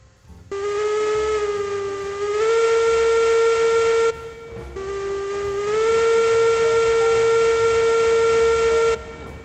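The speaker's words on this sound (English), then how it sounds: "this train's struggling a little bit to get started" A steam locomotive whistle in the train game Railroads Online blows two long, loud, steady blasts, each rising slightly in pitch, separated by a short gap as the heavy train starts to pull.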